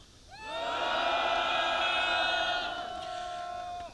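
A large crowd of striking YTN broadcast staff at a press conference outside the National Assembly roars and cheers together in a loud sustained shout that swells quickly, holds, then gradually tapers off.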